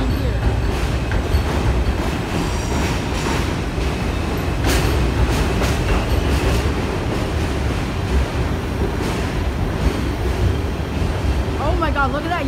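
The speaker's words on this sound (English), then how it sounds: "And there's another train here." New York subway train at the Coney Island terminal station on a rainy day, a steady continuous rumble of wheels and motors filling the platform, with faint squeals and brief clanks over a constant roar.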